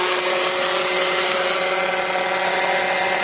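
Constant whirring drone of a radio-controlled model helicopter's rotor and motor, steady and fairly loud throughout, with no talking.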